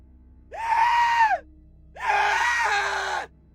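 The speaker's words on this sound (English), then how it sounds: "The old man screamed at the gory sight." An old man screams in terror twice, each a long, loud, wavering cry lasting about a second, separated by a short silence against a quiet background.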